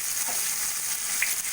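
Chopped tomato sizzles in hot oil with five-spice, bay leaf, dried red chili, salt and turmeric, a dense, even crackle close by with no voices.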